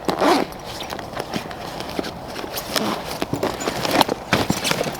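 Short zipper pulls on an Amabalis Urban Tote bag's side pocket, several quick rasping strokes close by, mixed with rustling of fabric and light handling clatter.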